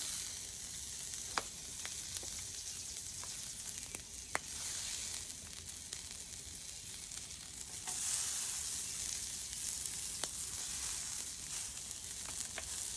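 Onions hit a hot flat-top griddle for smashburgers, giving a soft, steady sizzling hiss broken by scattered sharp pops and crackles, with no talking.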